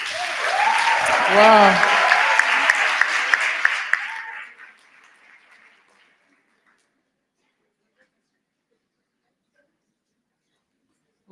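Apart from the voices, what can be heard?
audience applause at a school career day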